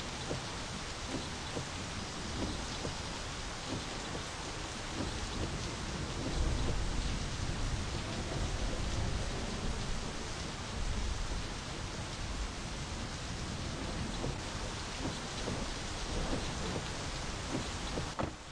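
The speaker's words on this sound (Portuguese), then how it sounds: "A chuva tá parando, passou, já era." Steady rain with distant thunder in the driving game My Summer Car, a continuous hiss of even loudness with a slight swell partway through and no voices.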